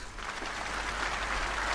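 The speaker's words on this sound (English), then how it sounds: "the crowd here at Cheltenham giving him a good round of applause for that" A snooker crowd at Cheltenham applauds a fine shot during a Grand Prix quarter-final, a sustained, even round of clapping that fills the hall without any voices on top.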